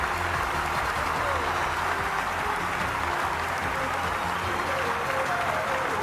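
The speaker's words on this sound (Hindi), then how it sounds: "आपका मनोबल बढ़ाने के लिए तालियां हो रही हैं।" An audience at a Jain Das Lakshan cultural quiz program in Ahmedabad applauds a contestant, a dense, steady wash of clapping that holds evenly for the full six seconds.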